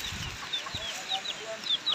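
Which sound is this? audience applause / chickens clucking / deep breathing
chickens clucking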